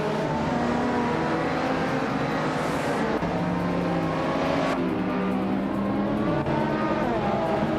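Race cars in a video game, a 1995 Dodge Viper RT10 leading the pack, accelerate off the line with rising, shifting engine tones that layer and sweep upward, loud and steady without voices.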